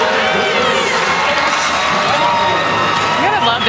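A packed volleyball crowd at the Coors Events Center cheers and shouts loudly and continuously during a Colorado women's NCAA match against UCLA, with a dense roar of voices throughout.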